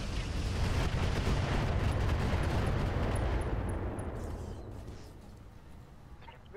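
An ammunition explosion in the mech combat game Roguetech hits as a loud, dense roaring blast and then fades over several seconds into a faint rumble, with no talk over it.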